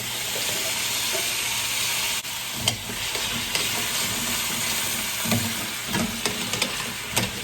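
Aromatics for a beef stew fry in a pot with a steady, broad sizzle and hiss, broken by a few soft clanks and stirring knocks, close and fairly quiet with no talking.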